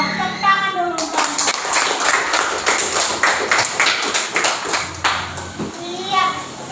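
A classroom of children claps together in a steady burst of rapid hand claps lasting several seconds, with a voice faintly audible at the start and end.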